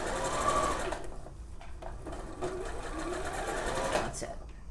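A sewing machine stitches a facing on a McCall's 7948 garment, its motor whirring in a steady fast buzz with brief slowdowns, close and loud, while someone talks over it.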